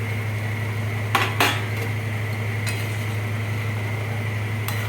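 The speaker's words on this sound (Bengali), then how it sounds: "এবার আমি ভেজে রাখা কপিটা দিয়ে দেবো।" Utensils clatter against a curry pot as fried cauliflower goes into a simmering fish curry, two or three quick metallic clinks and knocks over a steady low hum from the stove.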